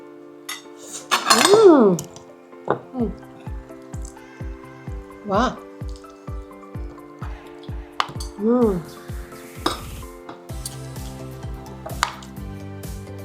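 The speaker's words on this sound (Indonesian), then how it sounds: "Diaduk nasinya begini." A spoon stirring and scraping rice in a bowl during a meal of spicy chicken feet, a run of close, regular clinks and taps on the dish, with talking over parts of it.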